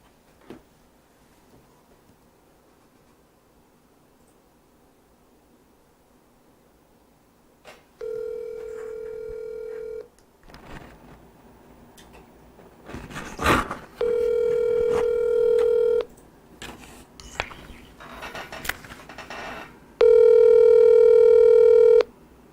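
A call is placed: faint background, then three separate steady ringback tones spaced several seconds apart with clicks and handling noises between them.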